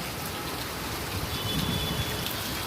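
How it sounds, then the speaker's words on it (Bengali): Steady rain falls outdoors in the late afternoon, a dense continuous hiss of drops on surfaces around a pigeon area, heard alone without voices. "এর ভিতরে বৃষ্টি শুরু হয়ে গেছে"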